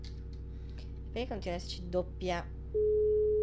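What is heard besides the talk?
double notification alert sound on a stream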